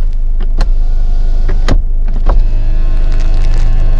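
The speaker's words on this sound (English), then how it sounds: "They still do all automatic windows." Automatic power windows on a 2015 Volkswagen Golf SportWagen, a steady motor hum heard from inside the car with several sharp clicks and thumps as the windows move and stop.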